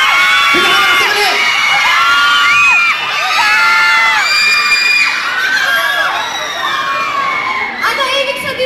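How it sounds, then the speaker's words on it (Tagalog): A crowd at a mall show in SM Sucat screams and cheers loudly, dense high-pitched shrieks and whoops from many young voices overlapping continuously throughout, with scattered shouted words mixed in. "Gusto ko, pinakamalakas tumili!"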